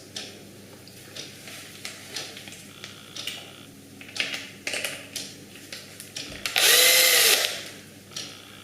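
A Makita cordless drill driver clicks and ticks in a few short taps, then spins in one loud, sustained burst of about a second before falling back to light tapping.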